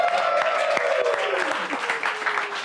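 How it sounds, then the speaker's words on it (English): Audience applause opening a Fortnite closing ceremony, steady moderate clapping with a voice talking over it throughout. "Now you can clap."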